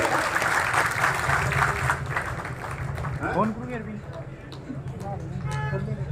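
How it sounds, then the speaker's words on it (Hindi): Loud, sustained crowd applause at an outdoor Indian political rally, a dense wash of clapping with horn-like tones and a speaker's voice cutting through. "जोरदार ताली बजाइए, भामू जी के कानों तक जानी चाहिए।"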